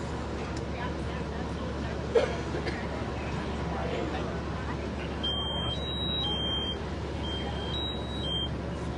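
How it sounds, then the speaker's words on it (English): During a fire demonstration at the 2024 State Fair, in the room without sprinklers, a smoke alarm sounds with repeated high, shrill alternating beeps over a constant crowd murmur and background hum. "The smoke alarm activated in 6 seconds."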